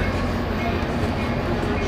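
Tri-Rail passenger train riding along the track, a steady low rumble and rattle of the car filling the interior with continuous broadband noise throughout.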